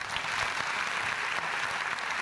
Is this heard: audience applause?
yes